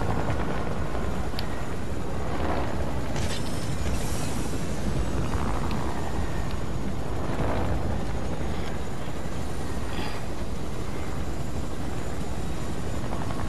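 Helicopter in the video game Fortnite, a steady loud rotor drone with engine roar that holds continuously throughout, with no talk over it.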